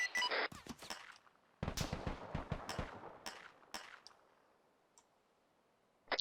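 Gunfire from a military video game mission: sharp, close bursts of automatic shots in a rapid rattling cluster, then scattered single cracks trailing off into quiet.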